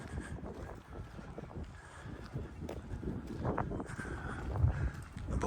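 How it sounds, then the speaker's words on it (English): A slight outdoor breeze rustles and buffets around the microphone in an abbey garden, a faint, uneven wind noise with soft gusts and no speech. "a bit of a breeze has picked up now"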